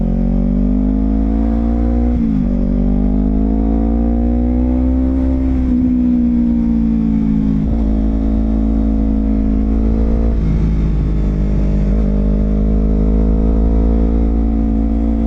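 A car engine drones loudly on the road, heard from a CBR250RR motorcycle riding behind it on the route to Bromo via Nongkojajar, with steady low engine hum and wind rising and falling over fifteen seconds.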